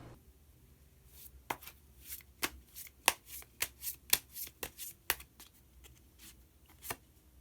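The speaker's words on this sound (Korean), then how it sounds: "마지막으로 히든 카드 한 장더 모아보도록 하겠습니다" Tarot cards being shuffled by hand, a series of crisp riffling snaps and slaps in an irregular rhythm, close and clear in a quiet room with no talking.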